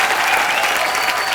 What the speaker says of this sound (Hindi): आइए फिर जोरदार तालियां एक बार।